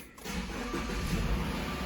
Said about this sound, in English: we're gonna go ahead and get the car started